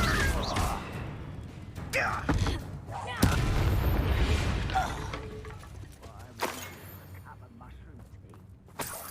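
A Bombarda blasting spell exploding in Hogwarts Legacy: a sharp, booming burst partway through, surrounded by rumbling impacts, clatter and other game noise, with vocal sounds mixed in.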